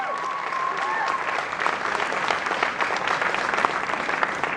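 Audience applause at an expo Q&A session, a steady broadband clapping from a large crowd that holds for several seconds, with scattered cheers rising through it.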